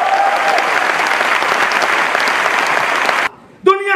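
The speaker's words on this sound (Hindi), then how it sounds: "इसलिए तालियां बजा सकते हैं जोरदार?" Loud, dense applause from a large audience at an Amway motivational business seminar, sustained for about three seconds before cutting off abruptly, followed by a brief lull and then a voice.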